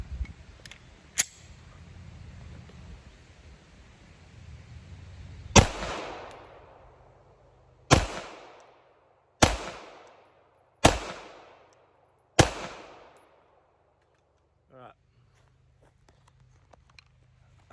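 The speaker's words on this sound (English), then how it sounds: "we're gonna do 5 rounds accuracy and only 5 rounds back there instead of 10" A Sig Sauer P320 XFIVE Legion pistol fires five deliberate shots on a range, each a sharp, loud crack with a ringing decay, spaced a second or two apart after faint handling noises.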